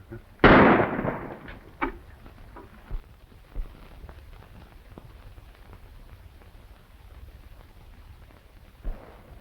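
A single warning gunshot rings out in a 1930s desert western, a sharp loud crack followed by a few fainter echoing reports and a quiet, rumbling room tone.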